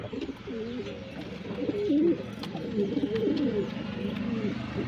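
Domestic pigeons kept in a home loft coo steadily in repeated low, throaty rolls, close by, with faint background noise and no talk.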